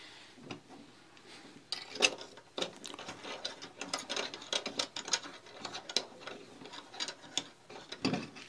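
Close clicking and ratcheting from the adjustable side handle of a Kamerar Tank camera cage being rotated and tightened, a run of small irregular mechanical ticks and clacks with no voices.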